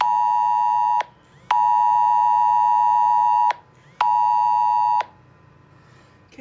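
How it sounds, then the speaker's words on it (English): Emergency alert tone from a 2017 Samsung J7 phone: three loud, steady electronic beeps of about a second to two seconds each, separated by short gaps, with no talk over them. "go to emergency alert tone. That's basically what you will hear."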